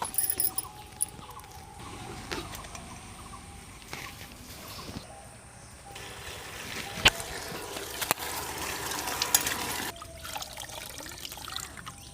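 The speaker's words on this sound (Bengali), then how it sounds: "এখন আমি মোচাটাকে ভালো করে ধুয়ে নেবো" Chopped banana flower (mocha) is washed in water, with steady trickling and splashing close by, occasional louder sloshes and clinks, and continuous running water throughout.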